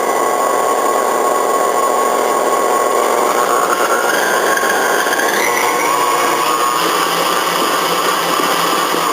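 Electric mixer beating lemon blueberry muffin batter, a steady loud motor whine that runs unbroken throughout, with a slight pitch shift partway through as the batter thickens; close and alone, no voices.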